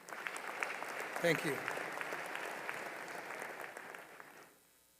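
Audience applause at a university commencement ceremony, a broad steady clatter of many hands lasting about four seconds before fading, with a brief spoken thanks near the start.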